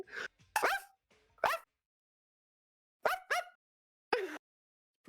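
A person imitates a dog barking, giving a few short, sharp vocal barks in quick bursts separated by pauses, close to the mic and fairly loud, with no other sound around them.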